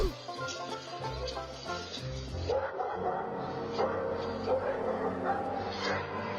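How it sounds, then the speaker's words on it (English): Two guard dogs trained to defend their property bark and yip at an intruder, repeated sharp barks with some whimpering, moderately near, under a narrator's voice. "This daredevil didn't count on 2 guard dogs who were trained to defend their property."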